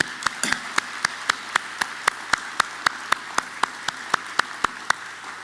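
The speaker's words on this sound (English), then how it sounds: "So I want to give a big round of applause to Bafine Maboya." Applause at a women-in-aviation celebration, heard as evenly spaced sharp claps, roughly four per second, close and steady over a low background hum with no talking.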